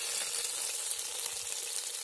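Ingredients frying in a pot for a Khmer soup, a steady bright sizzle that holds without a break, close up and with no talk.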